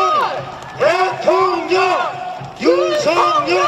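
A crowd at a Korean presidential campaign rally in Anseong chants in unison, loud rhythmic shouted phrases repeated over and over with cheering voices.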